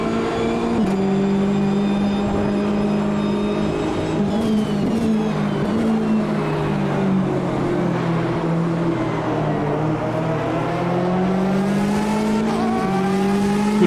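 Race car engine in Automobilista 2 during the 24 Hours of Daytona, a loud sustained roar with rising and falling revs through gear changes and some tire squeal, close and continuous with no voices.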